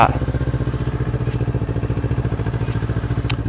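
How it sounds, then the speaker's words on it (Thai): A Kawasaki Ninja 400 motorcycle engine warms up at idle, a loud, close, steady pulsing throb with even rhythm throughout, no talking over it. "เดี๋ยวขออนุญาตวอร์มเครื่องสักแป๊บ"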